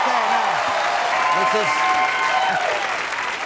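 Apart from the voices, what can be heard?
applause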